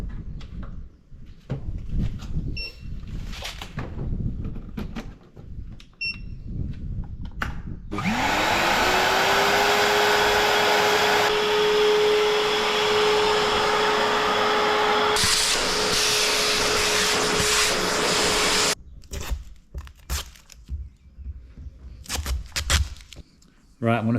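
Power drill fitted with a sharp wood flat bit bores through a van's panel in a sustained loud whine that holds steady for about ten seconds, with clattering handling noises and brief talk before and after.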